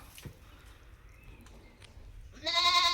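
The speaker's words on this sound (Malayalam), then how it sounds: "മലബാറയിൽ കൊമ്പില്ലാത്ത വേറൊരു ആട് കേട്ടോ നല്ല പാലുള്ള ആടാണ്" A hornless Malabari dairy goat lets out one loud, near bleat near the end, after a stretch of quiet farmyard background with faint knocks and shuffling.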